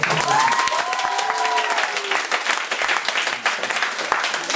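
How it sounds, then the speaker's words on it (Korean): Church school praise festival audience breaks into loud, dense applause, a steady wash of many hands clapping with brief whoops or voices near the start. "박수 한번."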